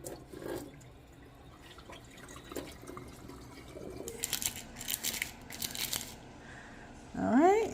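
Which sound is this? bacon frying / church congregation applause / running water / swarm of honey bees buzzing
running water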